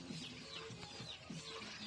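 Chickens cluck softly in short, repeated bursts among durian and calamansi trees, faint and distant under steady outdoor background noise.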